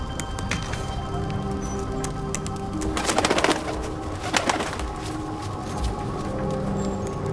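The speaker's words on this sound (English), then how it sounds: "There's just a bird that flies casually in and gives me a matchbox" A bird flutters in and coos softly in the Thief stealth game, a brief burst of wingbeats and low calls rising over a steady ambient hum.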